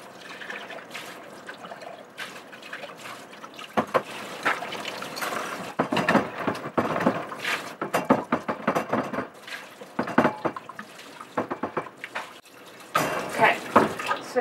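Tap water runs and trickles while lab glassware is washed with detergent, steady splashing punctuated by irregular clinks and knocks of dishes, close up with no talk.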